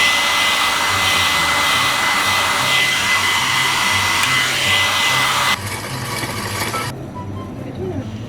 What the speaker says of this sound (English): We use in the patisserie this hairdryer to make the cream warm, a little bit more fluffy